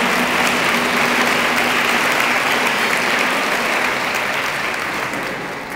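Heavy, continuous audience applause fills a gathering hall, loud and dense from the start and fading gradually toward the end, with a few voices mixed into the clapping.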